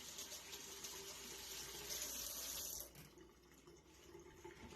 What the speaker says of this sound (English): Rinse your hand so your hand not nasty.